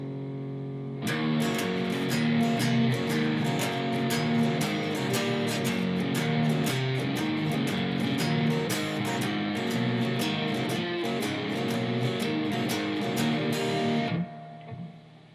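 Electric guitar playing parts one through three of a blues shuffle at full speed, a steady driving rhythm with sharp repeated attacks, loud and continuous, no talking.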